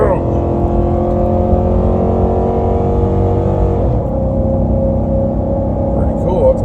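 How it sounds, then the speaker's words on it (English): A 2019 Nissan Titan Pro4X pickup towing ATVs in the Rockies accelerates hard, its engine roaring loud and steady near 4,000 RPM with rising tone, then a gear shift as the pitch drops. "Now listen to the motor."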